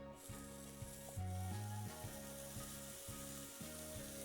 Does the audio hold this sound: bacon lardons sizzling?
yes